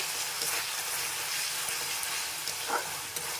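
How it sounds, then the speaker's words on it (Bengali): Yogurt-based prawn curry masala is stirred in a pan as it fries, giving a steady close hiss of sizzling with a few soft scraping strokes, with no talk. "এবার এটাকে আর একবার আমি নাড়িয়ে নেব"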